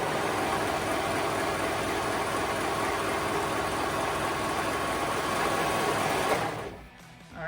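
Sewing machine stitching the short ends of legging fabric together, a continuous fast mechanical whir at steady close volume that stops abruptly near the end.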